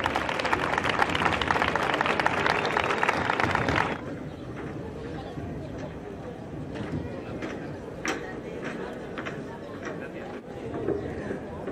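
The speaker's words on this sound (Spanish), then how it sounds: "Un aplauso para ellos." Audience applause at a public talk given by Madrid-area mayor David Pérez and the director of Loterías: dense, loud clapping for about four seconds, then a sudden drop to a quieter room with low murmur and a few scattered claps.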